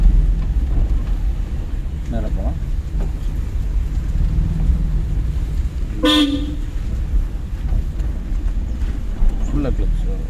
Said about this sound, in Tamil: ஹார்ன் அடிச்சிருக்கணும்.